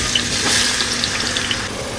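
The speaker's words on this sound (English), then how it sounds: "Let's fry onion, garlic and ginger for 10 minutes" Onion, garlic and ginger frying in a pan, a steady close sizzle with a faint background hiss and no voices.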